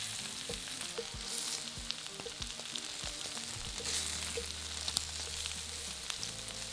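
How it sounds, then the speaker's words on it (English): Coated lamb pieces fry in a pan with a continuous soft, close sizzle and scattered crackles, plus an occasional low knock or clink, and no one talking. "Cook the lamb for 5 to 6 minutes, turning every couple of minutes until the lamb's crispy and browned"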